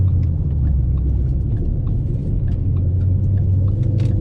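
Automatic car engine pulling hard at speed in third gear, a steady loud low rumble of engine and road noise throughout with no voices.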